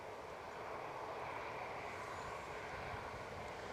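A SunExpress airliner on the move at Newcastle airport, heading back to Antalya, gives off a steady, distant jet engine roar with broad, even rumble and no talking.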